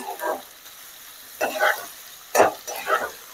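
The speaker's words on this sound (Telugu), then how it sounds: "హై ఫ్లేమ్ పెట్టుకొని బాగా ఇలా కలుపుతూ ఫ్రై చేయాలి" Garlic and vegetables fry over a high flame, stirred in bursts: four short scraping, sizzling surges come close and fairly loud, with quiet gaps between them and no voices.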